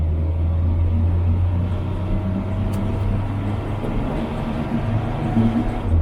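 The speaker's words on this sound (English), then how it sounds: "It's changing gear pretty decently, and it's of course not making the Mini faster, but it's still getting up and going pretty quickly." Mini Cooper 1275 with an automatic gearbox on a test drive, a steady low engine rumble and road drone running close and continuous throughout.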